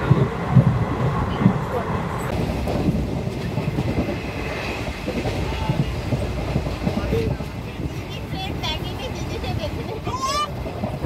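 Kanchanjunga Express train running on rails on the Sealdah to NJP route, with a steady, continuous rumble and rattle of the carriages, loud and close, with faint voices in the background and a brief squeal near the end.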